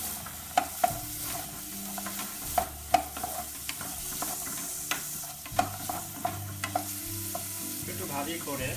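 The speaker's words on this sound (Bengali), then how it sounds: "সেখানে আমরা ভেজিটেবল এবং শ্রিম্পটা দিয়ে দিব, অল্প আছে," Vegetables and shrimp fry in a little oil, giving a steady sizzle with repeated scraping clicks from a utensil as the pan is stirred, close and continuous with no talk.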